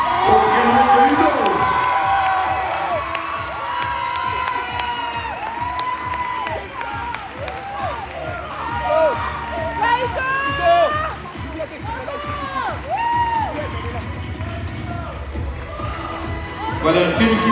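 A large crowd at the Mister France 2026 final cheers, shouts and claps as the winner is named. A dense, loud wash of whoops and high cries swells and dips, and an announcer's voice carries through it.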